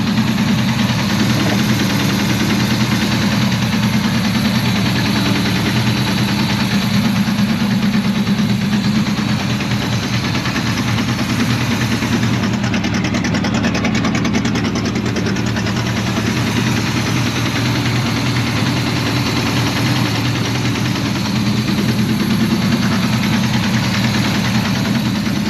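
A 1984 Chevrolet Monte Carlo race car engine idles steadily with a low, rough rumble and faint top-end ticking, loud and continuous throughout with no talk.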